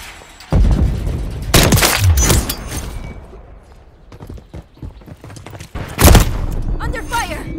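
Gunfire in a film called Shooter, with several loud, close, irregular bursts and impacts spaced between quieter stretches, the shots sharp and echoing, while a voice briefly speaks in between.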